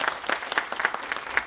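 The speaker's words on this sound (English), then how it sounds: "just give him a round of applause for that" A small crowd at a re-entry community meeting applauds, giving a brief burst of uneven, close hand claps without any voices.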